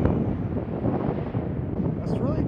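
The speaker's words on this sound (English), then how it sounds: "The wind is pretty brutal right now." Wind rushes loudly and continuously across the microphone on a disc golf course, a dense low roar with no break; a faint voice seems to sit underneath near the end.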